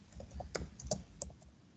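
Quiet, uneven clatter of keys as someone types a short burst on a computer keyboard, with several sharper clicks standing out.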